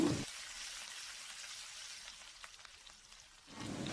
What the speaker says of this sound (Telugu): ఎండుమిరపకాయలని వేసుకోవాలి. అలాగే గుప్పెడు కరివేపాకులను కూడా వేసుకొని మొత్తం కూడా వేయించుకుంటున్నాను